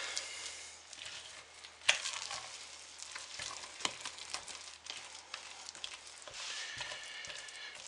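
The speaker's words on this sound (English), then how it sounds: "it does just take a little while to stir your scent oil into your hot process" Scent oil is stirred into hot process soap, giving a soft, wet, sizzling churn with faint squishy scrapes and occasional clicks of the utensil against the pot, quiet and steady throughout with no talking.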